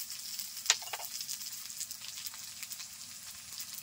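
Crushed garlic and slit green chillies hit hot oil with onions in a pan for a prawn and peanut kochu shak dish, giving a sharp splash, then a steady, fairly quiet sizzle with faint stirring and no speech.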